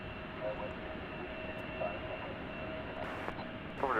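A British Airways Boeing 747 jet at DFW airport at night, a steady distant engine roar held throughout, with people talking over it and brief chirps and noises near the end.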